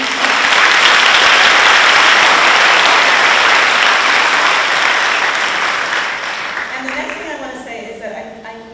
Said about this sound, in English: So let's just quickly give Jonathan Shu a quick round of applause